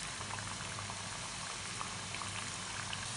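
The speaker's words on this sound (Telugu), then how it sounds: "అటు ఇటు తిప్పుకుంటూ మనము ఫ్రై చేసుకోవాలండి గోల్డెన్ బ్రౌన్ కలర్ వచ్చేంత వరకు మనము డీప్ ఫ్రై చేసుకోవాలి" Potato and onion bajji deep fry in hot oil, giving a steady, dense bubbling hiss that stays even and fairly faint from start to end, with no voices.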